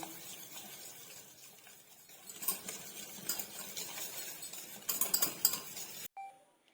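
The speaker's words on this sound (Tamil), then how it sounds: "இப்போ இதை நல்லா விஸ்க்கு வச்சு நம்ம கலந்து விட்டுடலாம்" A whisk beats a wet mixture in a bowl for wheat biscuits, rapid clinking and scraping strokes that build in intensity close up, then stop abruptly.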